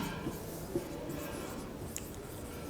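Faint, soft scratching of writing on a board during a classroom lesson, with a few light tapping strokes over steady room hiss and no talking.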